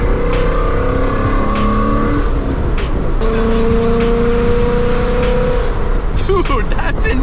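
A rebuilt second-generation Ford Mustang engine revs hard and loud, rising and falling roars with a sustained throaty drone and people talking excitedly over it.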